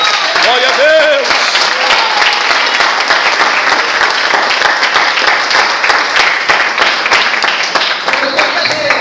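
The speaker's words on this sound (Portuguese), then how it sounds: "Quem pode aplaudir?" A church congregation applauds loudly and continuously, a thick roar of clapping with a few shouted voices rising over it near the start, sustained and close throughout.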